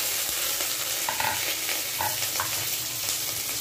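Peanuts frying in mustard oil with mustard seeds, curry leaves and chopped chilli, a steady close sizzle with a few scraping stirs and faint tonal clinks, no voices.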